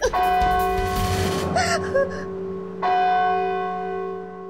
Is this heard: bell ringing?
yes